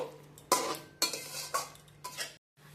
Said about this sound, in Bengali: সব কিছু আলু আর ফুলকপির সাথে ভালো করে মিশিয়ে এক দু মিনিট মিডিয়াম আঁচে কষিয়ে নেব